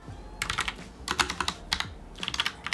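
Typing on a Logitech POP Keys mechanical keyboard, rapid clacky keystrokes in irregular bursts, close and crisp, with brief pauses between runs of keys and no talking.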